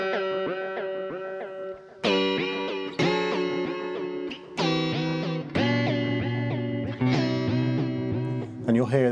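An electric guitar plays choppy chords through a Chase Bliss Audio Spectre through-zero flanger pedal, a swirling, sweeping effect, each strum ringing with a metallic, whooshing modulation.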